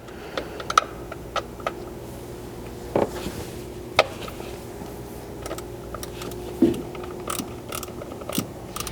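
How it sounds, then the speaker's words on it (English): A ratchet with a 10mm socket removing bolts from an engine bracket on a 4th gen Toyota Tacoma, giving faint rapid clicking with a few sharper metallic knocks over a quiet background. "It's got 2 bolts holding it in place that need to be removed with your 10mm socket."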